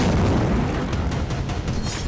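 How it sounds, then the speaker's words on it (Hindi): Missile explosions strike Israel during a night of sustained attacks, heard as a dense, continuous booming rumble with heavy low-end roar and crackling bursts throughout, loud and without pause. "इजराइल पर बीती रात लगातार हमले होते रहे और मिसाइलों के धमाके होते रहे।"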